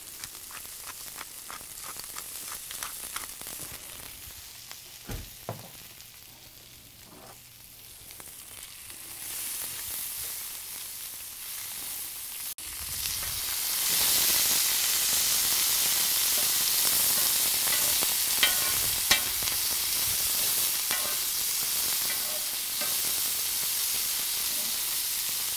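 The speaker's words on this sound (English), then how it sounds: "gonna toss them in here and we're gonna saute these" Hot dog toppings sautéing in a pan with salt and black pepper, a steady close sizzle that swells louder and brighter partway through, with occasional scraping stirs.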